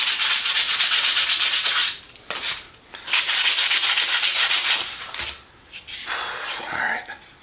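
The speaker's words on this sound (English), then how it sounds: "It's just sanding and sanding and sanding." Hand sanding a wooden screwdriver handle during a restoration: close, loud rhythmic scraping strokes that run in long bursts, broken by short pauses.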